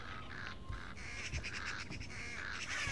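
Crows caw in a Thief video game scene, several harsh calls repeating over a steady ambient background at moderate volume, with no talking.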